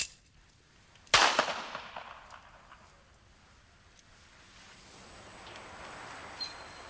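Single pistol shot fired outdoors, a sharp loud crack followed by a decaying echo, then quiet ambient noise.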